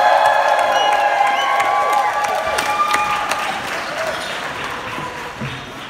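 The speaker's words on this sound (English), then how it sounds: "let's give a big cheer for everyone who made the festival such a wonderful success" A crowd cheers and applauds at a participant party for the Manchester International Festival 2019, loud and sustained with whoops and mixed voices.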